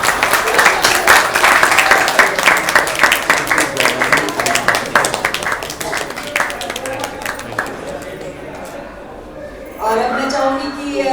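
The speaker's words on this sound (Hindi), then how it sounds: "बेटा ताली जितनी बजा सको बजा सको।" Audience applause at a college function, a dense run of clapping that fills most of the clip under steady talk, thinning out toward the end.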